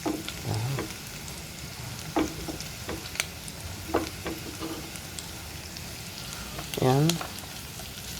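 Sliced onions sautéing in a hot pan, a steady sizzle running throughout with a few stirring clatters and a brief spoken word over it.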